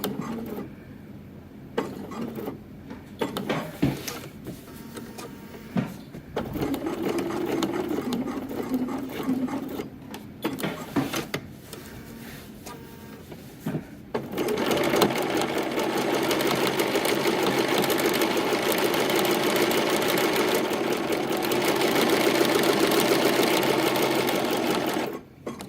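A domestic sewing machine stitches and backstitches dress fabric in short bursts, then runs in one long, steady, close whirring stretch with light mechanical ticking.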